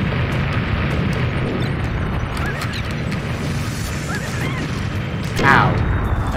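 Fire effects roar in Super Smash Bros. Brawl's Subspace Emissary, a loud continuous rumbling blaze with bursts and a whooshing flare near the end, under a player's excited voice.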